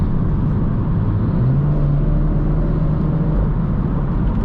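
A 500whp B58 six-cylinder car accelerating hard, heard from inside as a deep, steady engine rumble with a rising tone partway through, no voices.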